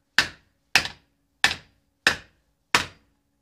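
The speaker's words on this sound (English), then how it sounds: "few taps of a hammer." Five evenly spaced, sharp metallic hammer taps on a car seat tilt mechanism, gently tapping a pop rivet into place; close and clear, each strike ringing briefly before dying away, with no talk.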